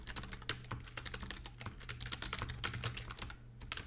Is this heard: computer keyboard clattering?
yes